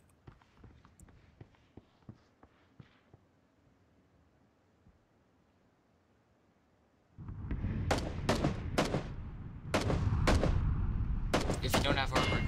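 Shotgun fire in the video game PUBG, a string of distant sharp reports at first, then louder close heavy blasts in irregular bursts over a noisy game background.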